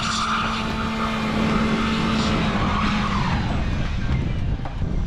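A car's wheels spin in snow under heavy throttle, a loud continuous engine drone with whining tire slip holding steady for several seconds, close and without talk.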